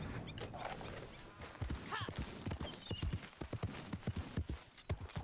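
Hooves of a Kentucky Saddler horse in Red Dead Redemption 2 clop in a quick, close, irregular rhythm on open ground, with a brief whinny-like cry midway and no talking over it.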